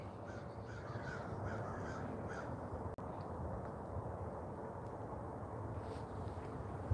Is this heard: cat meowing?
no